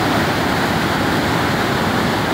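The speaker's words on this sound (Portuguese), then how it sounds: "olha aí a força da válvula da água aí" Water gushes hard from a valve at the Quixeramobim dam in Ceará, a loud, steady broadband roar like a waterfall that fills the whole clip without a break.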